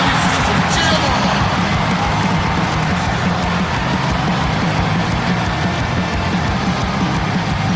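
A basketball arena crowd in the video game NBA 2K11 cheers for the New Orleans Hornets: a loud, continuous roar of many voices that stays steady throughout.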